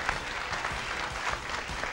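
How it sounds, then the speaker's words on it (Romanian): Applause from a studio audience welcoming a family from Moldova on a Romanian TV show, a steady dense clatter of many clapping hands throughout, moderately loud and without pause. "aplauze pentru familia din Moldova!"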